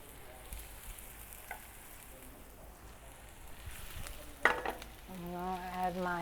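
Diced onions frying in a pan, a soft continuous sizzle with light stirring clatter, building louder near the end as more is added.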